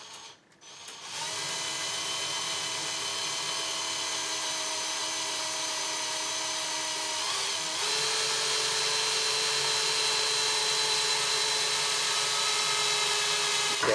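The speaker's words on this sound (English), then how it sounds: "Be careful as it drills through." A power drill bores screw holes through a door with a steady, high whine that runs for many seconds and shifts pitch partway through. The drilling is close and continuous, with no speech.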